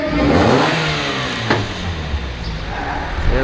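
Car with an LS VTEC engine revving hard at a parking-lot car meet, a loud rising then falling engine roar nearby amid crowd noise.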